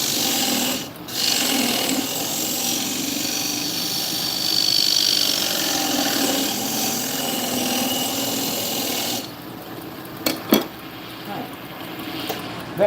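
Wood turning on a lathe with a flat nose scraper: a continuous close rasping scrape over the spinning workpiece, easing off toward the end into a few knocks and taps.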